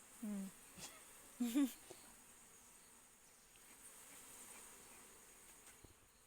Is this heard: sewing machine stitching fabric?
no